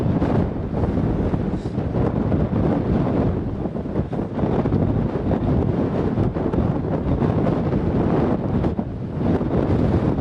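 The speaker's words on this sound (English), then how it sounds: "the wind's blowing the camera out my head" Steady, heavy wind buffets a handheld camera microphone outdoors in bitter cold, a constant loud roaring rumble that fills the whole stretch without letup.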